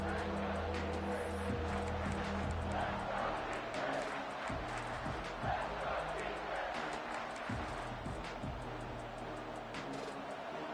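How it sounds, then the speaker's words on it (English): A big stadium crowd roars at an LSU versus Texas A&M college football game as the defense lines up near the goal line, a continuous loud wash of cheering with a commentator talking over it. "This big crowd doing everything possible to inspire this defense down here near the goal line."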